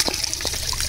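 Clean, fast-flowing river stream water gurgles and trickles up close in a short, steady burst with small splashes and no voices.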